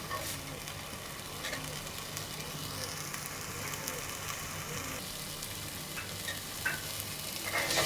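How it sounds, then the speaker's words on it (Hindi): Food frying in a pan of oil while pakora kadhi is cooked, giving a steady, faint, continuous sizzle with light stirring. "इसको थोड़ा सा और भूनेंगे ताकि इसका कच्चापन ख़त्म हो जाए"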